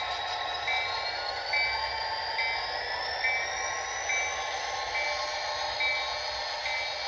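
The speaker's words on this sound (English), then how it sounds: "5301 backs down the transition track back to the Garrett Mine team track and also the NS team track" Locomotive 5301 backing slowly along a transition track toward mine and railway team tracks, a steady rumbling hum with a faint high whine and repeating clicks, moderately loud and continuous, no voices.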